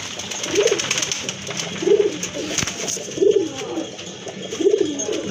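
Pigeons coo at a pigeon seller's stall, four low rounded coos at a slow, regular pace, close and clear above a faint background murmur.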